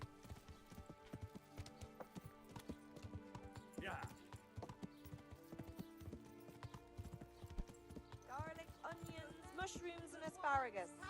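Horse hooves clip-clop in the Kingdom Come: Deliverance video game, steady paced steps under background game music, with a brief whinny and a voice talking near the end.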